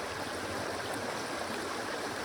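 Steady river water flows nearby with a constant, even rushing and no voices.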